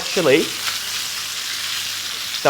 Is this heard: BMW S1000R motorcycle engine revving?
no